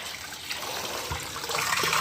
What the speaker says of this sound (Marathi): पाणी भरायचं काम चालू आहे